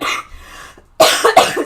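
A person coughs indoors: a short rough cough, a brief pause, then two more forceful coughs close to the microphone, with no speech.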